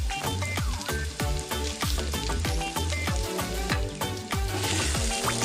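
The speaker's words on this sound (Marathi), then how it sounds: "अशा प्रकारे आपले हे जे स्पायसेस आहेत ते आपण आता हे चांगले फ्राय करून गरम करून घ्यायचे आहेत." Spices for chicken handi frying in a hot pan, with a loud continuous sizzle and crackle overlaid by rhythmic scraping strokes of stirring, close and busy throughout.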